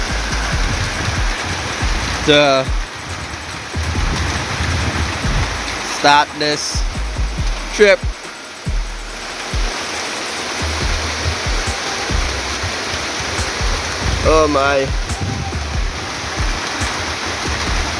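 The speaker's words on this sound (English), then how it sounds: "rain keeping us trapped at camp. We're waiting for the rain to blow over" Steady rain pours over a forest camp in the bush, a dense continuous hiss of falling water, with a few brief voices speaking over it now and then.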